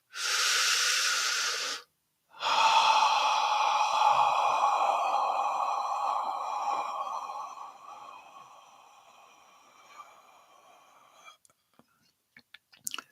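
A slow breath out during a guided meditation: a short breathy exhale, a brief pause, then one long, close, airy exhale that gradually fades away, with no talking.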